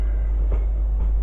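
A Class 350 electric train pulls away from Bushey station with a loud, steady low rumble and a couple of faint wheel clunks, close by and with no voices.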